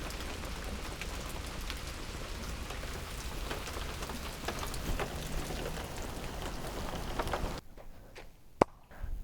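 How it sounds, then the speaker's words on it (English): Heavy rain pours steadily in a dense, continuous hiss, then abruptly drops away near the end to a quieter background with a single sharp click. "It is pouring rain"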